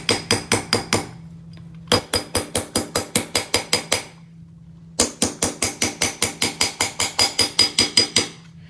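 A chasing hammer strikes a hand-stamped metal blank in rapid, even bursts of sharp, bright metallic taps. There are three runs of about ten to fifteen blows, with short pauses between them, loud and close.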